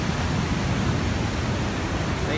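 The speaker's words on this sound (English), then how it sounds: "That's the waves from the ocean that you hear." Ocean waves surge in a constant broadband roar, loud and steady with no distinct breaks, sounding like a wash of surf close by with no voices.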